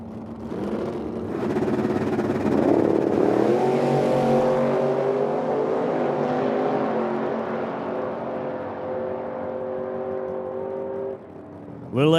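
A little S10 drag racing car makes a full run at a Medicine Hat strip, its engine roaring loud and steady as it climbs through the gears, then fading toward the finish.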